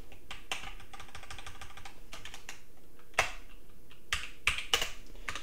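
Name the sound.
typing on a computer keyboard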